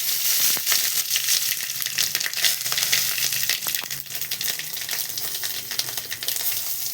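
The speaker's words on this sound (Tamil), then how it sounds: "கடுகு, சீரகம் போட்டுக்கோம். காஞ்ச மிளகா போட்டுக்கோம்." Mustard seeds, cumin and dried red chilies frying in hot oil for a tempering, a loud close sizzle full of rapid crackling pops running continuously without speech.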